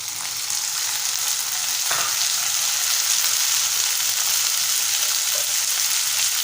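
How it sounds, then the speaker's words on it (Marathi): Softened onion and finely chopped tomato fry in a pan with a loud, continuous close sizzle that holds steady throughout, with a brief stir-like scrape early on and no talk. "आपला कांदा छान नरम झालेला आहे, त्यामध्ये आपण बारीक चिरलेला टोमॅटो टाकून घेऊया।"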